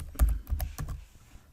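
A computer keyboard clicks in a short burst of a few quick keystrokes, close and fairly quiet, with no talking.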